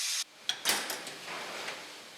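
Door of a large rice steamer cabinet in a military mass kitchen swings open with a few sharp knocks and a short metallic clunk, followed by a soft fading hiss.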